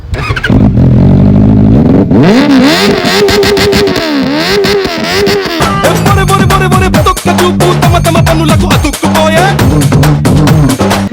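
Four-cylinder superbike engine revs loudly and repeatedly, the pitch sweeping up and down in sharp throttle blips, close by and dominating throughout with no pause.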